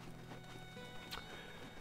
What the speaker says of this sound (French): Vous pouvez transporter des cargaisons et tout ça via des chariots et un cheval.